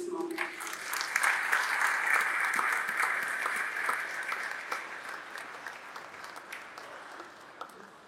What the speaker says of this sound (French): je vous demanderai très respectueusement de bien vouloir accueillir sous vos applaudissements